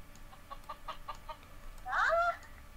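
Chickens cluck in the Mini World video game: a string of short, soft clucks followed by a louder, drawn-out squawk, with faint background sound throughout.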